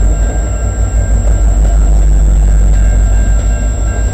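A GP9 switcher locomotive, L509, rolls past on the Dundas Sub in London, Ontario. A loud, deep engine rumble and steady rolling rail noise fill the stretch, with a thin high whine above.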